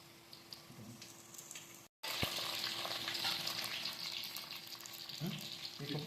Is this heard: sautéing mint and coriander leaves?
yes